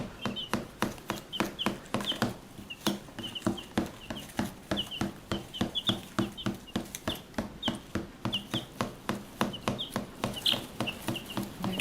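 Chicks and fowl chirping and clucking steadily in a dense, continuous chorus of short peeps, close by, with no talking.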